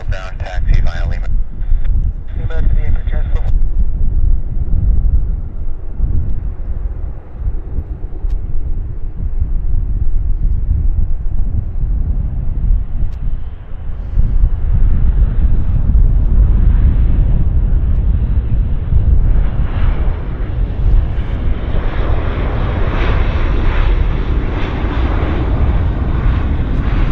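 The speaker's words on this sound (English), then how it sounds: "have an Air Canada Jazz from Cranbrook, flight 8299. It's a Q400." An Air Canada Jazz Q400 turboprop at Vancouver Airport, arriving from Cranbrook, gives a loud, steady engine roar with wind rumble throughout, while a voice talks over it.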